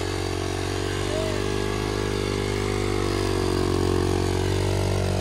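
A KTM 450 quad's engine drones steadily and loudly as the quad drifts through snow on worn tires. The engine note stays constant throughout, with no clear revs.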